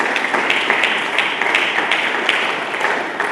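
A church congregation clapping together, steady dense applause with rhythmic accents throughout, loud and close and filling the room.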